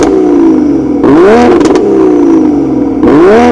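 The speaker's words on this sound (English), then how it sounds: "Let me give you a rev now." Toyota A90 Supra with a top-mount turbo engine and fully valved exhaust, revved hard in three loud, close bursts, each pitch climbing then dropping sharply with no talk over it.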